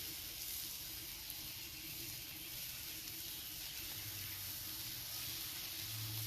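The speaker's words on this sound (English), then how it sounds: "Hot and sizzling." Steady, faint sizzling hiss of bacon frying on a hot griddle for smashburgers, continuous and even with a low hum underneath.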